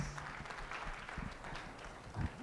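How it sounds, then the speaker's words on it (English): Audience applause at a charity fundraising dinner, a moderately loud wash of many hands clapping at steady density across the banquet hall, with a brief louder burst near the end. "Let's give a big round of applause for Puneet."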